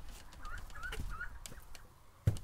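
Ducks in a barn give a few short nasal quacks and honks, close and fairly quiet, ending with a sharp knock.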